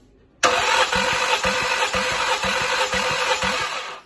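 A 3.7-litre engine in a 2018 Ford Explorer cranks on the starter during a compression test of the first cylinder. It sounds like a sudden, loud whir with about seven even compression pulses roughly every half second, then it stops.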